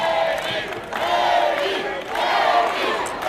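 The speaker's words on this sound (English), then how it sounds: "Navy crowd comes alive" Navy supporters in an arena crowd cheer and whoop during the wheelchair rugby final at the 2019 Department of Defense Warrior Games, loud swelling waves of shouting.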